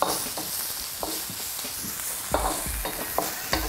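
Vegetables and shrimp are stir-fried in a pan for a Malaysian sayur campur tumis, a constant sizzle broken by repeated scraping and clanking of a utensil tossing the food, close and alone.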